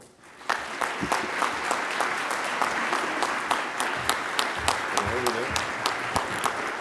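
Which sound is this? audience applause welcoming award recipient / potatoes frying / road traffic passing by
audience applause welcoming award recipient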